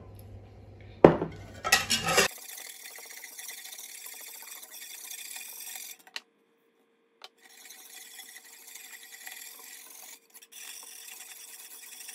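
Biscuit dough ingredients scraped and rubbed together in a bowl by hand with a utensil, a steady raspy scraping that runs through most of the stretch, pausing briefly twice, after a few louder knocks near the start.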